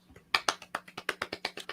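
Soft, quick clapping late at night: about a dozen light, evenly spaced claps in a short burst, close and quiet, with no talking.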